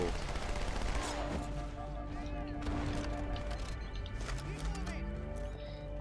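Halo 2 Anniversary battle on Cairo Station, with a grenade blast amid rapid gunfire and busy game effects, played fairly quietly under a player talking.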